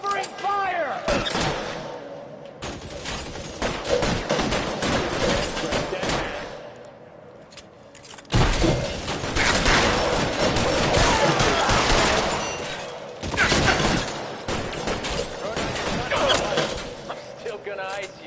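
Sustained gunfire from a shootout in L.A. Noire, dense volleys of shots crackling almost without pause for the whole stretch, loud and close, with a brief lull before the firing surges back; voices shout over the battle.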